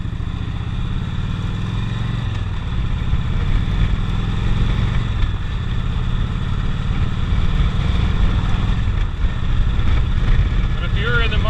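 A Harley-Davidson Electra Glide Ultra Classic with an Evo engine rumbles steadily while riding near Daytona Beach, Florida, a continuous loud low engine drone with wind noise and someone talking over it.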